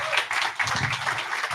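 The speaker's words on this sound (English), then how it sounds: "round of applause for her." A short burst of crowd applause for a biotech founder at a sports business panel event, steady mixed clapping across the whole moment with no talk over it.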